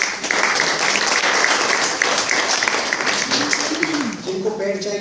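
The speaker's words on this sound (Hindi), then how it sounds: "जोरदार तालियां बजाइए।" Applause from a lecture audience at a nature cure health talk, a loud, steady wash of clapping that carries under a voice and the clatter of a busy room, easing toward the end.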